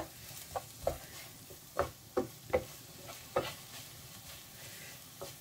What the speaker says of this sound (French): Mélanger jusqu'à ce que toute la farine soit bien mixée, que ça s'introduise bien dans notre farce